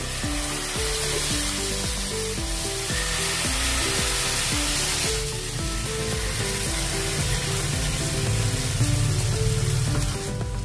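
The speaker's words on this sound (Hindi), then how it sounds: "आप तावे के ऊपर डालते समय थोड़ा सा इसको ऐसे चम्मच से हिलाते जाइए" Jowar flour and semolina batter poured onto a hot tawa, a steady loud sizzle hissing throughout with faint scraping, no voices.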